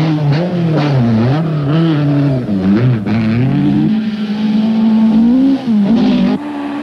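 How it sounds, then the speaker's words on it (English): A Toyota Celica Turbo rally car at the 1984 Thousand Lakes Rally in Finland, its engine loud and close, revving up and down through gear changes with a rising and falling growl. "Fred Gallagher bring their powerful Toyota Celica Turbo home in fifth place"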